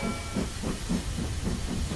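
A cartoon steam train pulls away, giving off a rhythmic chuffing hiss in regular puffs with a faint high whistle tone at the start, close and moderately loud, with no voices.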